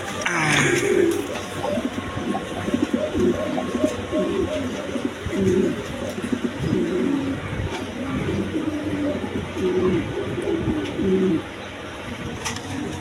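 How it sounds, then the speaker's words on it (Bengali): A pair of Roman pigeons, one male and one female, coo in repeated low throaty phrases close by while scuffling and fighting, their calls steady for most of the stretch, with faint background noise. "এইখানে এক পেয়ার রোমান গাল কবুতর আছে, একদম কোয়ালিটি সম্পন্ন কবুতর"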